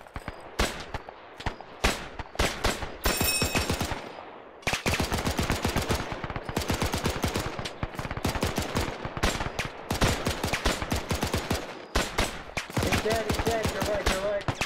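A machine gun crew firing in the game Brothers in Arms, long loud bursts of rapid evenly spaced shots, one brief pause between them and a faint voice near the end.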